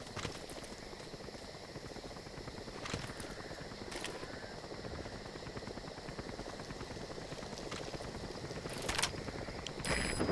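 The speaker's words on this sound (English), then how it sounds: "Support helicopter requested." A video game support helicopter in Metal Gear Solid 5 arrives, its rhythmic rotor thumping and engine drone filling the scene, steady and moderately near, with occasional sharp clicks and bumps.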